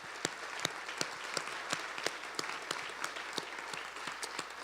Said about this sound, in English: give me a quick round of applause for everybody who's worked on the project